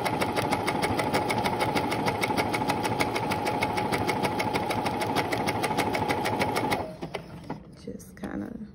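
Fast, steady machine stitching on fabric for bell-bottom trousers, a close mechanical rattle running continuously before stopping abruptly, followed by quieter handling noises and a voice.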